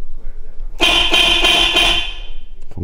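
A car horn sounds in one long continuous blast after its horn button is repaired, loud and close, then cuts off abruptly.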